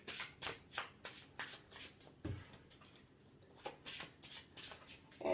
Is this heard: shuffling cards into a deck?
yes